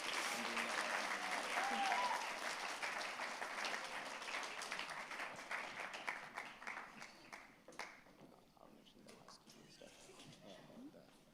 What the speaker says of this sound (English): Can you give it one more applause for them?